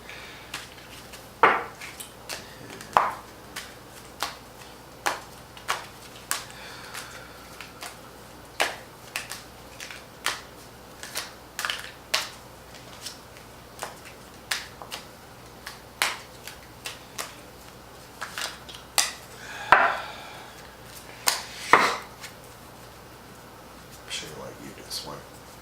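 A deck of tarot cards is shuffled by hand: repeated crisp snaps and soft taps arrive in uneven bursts over about twenty-five seconds, while a person talks quietly in the background.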